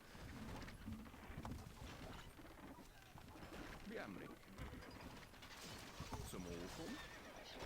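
Horses neigh in the strategy game Stronghold Crusader, faint against a busy battle soundscape of mechanical clatter, hoofbeats and bird calls, with one clearer whinny near the end.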